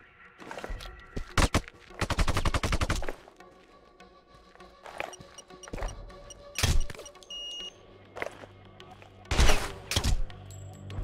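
Video game gunfire from Sniper Ghost Warrior 2: sharp bursts of automatic fire and single shots come in irregular clusters, mixed with thuds and footstep-like thumps at moderate distance.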